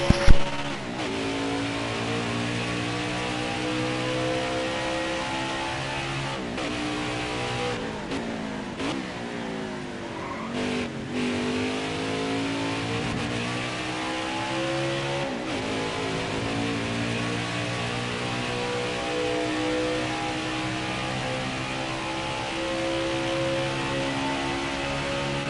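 Race car engine in NASCAR Heat 5 at Watkins Glen, droning loud and steady with rising and falling pitch sweeps as the car accelerates and shifts through the lap, close and continuous throughout.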